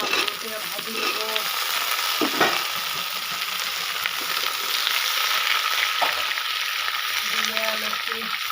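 Potatoes frying in a pan, a continuous loud sizzle with occasional stirring scrapes and brief background voices.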